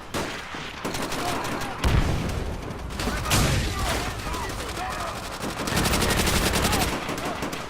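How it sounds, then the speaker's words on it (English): Tommy gun fire in the World War II video game World at War, with repeated bursts of automatic gunfire, sharp shots and loud blasts spread across the clip, mixed with combat noise and some voices. "Little Tommy gun."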